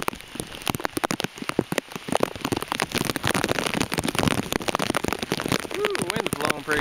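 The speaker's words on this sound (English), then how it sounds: "But it's pretty good rain." Heavy rain from Hurricane Isaac in southern Alabama patters densely on a nearby plastic surface with constant crackling drops; a voice speaks briefly near the end.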